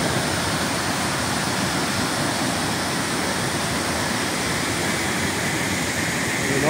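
Blackwater Falls in West Virginia gives a steady, loud, broadband roar of falling water, continuous and unbroken throughout.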